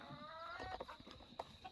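Chickens clucking in a farm pen with a rooster among them, several short clucks and calls coming at a moderate distance over a steady background hum.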